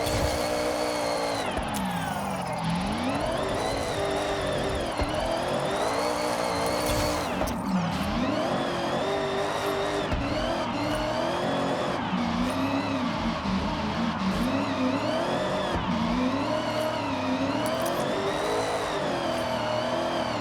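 A Mitsubishi Evo IX drifts in the Forza Horizon 6 racing game, its engine revving up and down continuously in loud sweeping surges with tire squeal, unbroken for the whole stretch.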